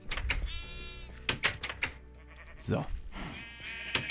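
Sheep in the video game Life in the Woods bleat in several short, fairly loud calls, with someone talking over and between them.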